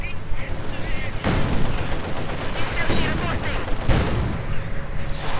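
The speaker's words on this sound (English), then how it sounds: "Taking a bit of fire there from the Panzer Grenadiers" Gunfire from Panzer Grenadier infantry in a Company of Heroes 2 battle, with dense bursts of small-arms shots and thumping booms rolling through, loud and continuous, over a faint game soundscape.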